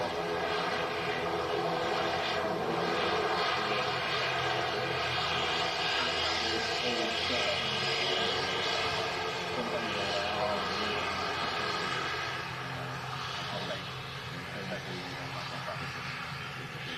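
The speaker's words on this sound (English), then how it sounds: "Beautiful Aer Lingus ATR 72 coming in from" An Aer Lingus ATR 72 turboprop airliner coming in to land gives a steady, broad engine roar that holds loud for most of the stretch and eases slightly toward the end, with someone talking over it.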